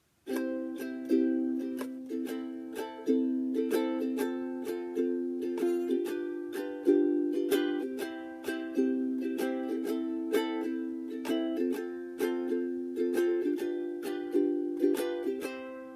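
Steady ukulele strumming in a repeating down-down-up-down-up pattern, bright chords played alone at a moderate, even tempo for the whole stretch.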